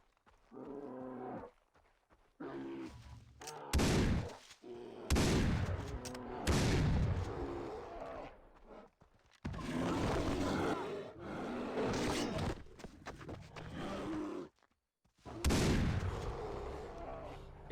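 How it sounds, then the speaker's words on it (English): Far Cry 3 gameplay with a shotgun: several loud, close blasts arrive at irregular intervals, each with a sharp attack and a short rumbling decay, between stretches of roaring game noise and no clear talk. "The shotgun will be fine."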